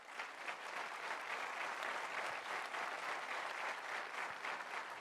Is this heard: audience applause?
yes